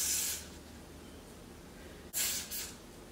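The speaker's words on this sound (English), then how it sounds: "any type of hairspray and just spray a little bit on the area" Hairspray is sprayed in short hissing bursts onto the hairline of a Peruvian body wave frontal wig, one burst at the start and two quick ones near the end, fairly quiet and close.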